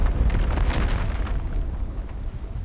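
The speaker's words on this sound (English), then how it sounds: "The bomber detonates in the sky, taking the young pilot with it!" A bomber explodes in the sky in the video game Reverse: 1999, producing a dense, rumbling blast with heavy low-end weight that fills the whole moment at high volume.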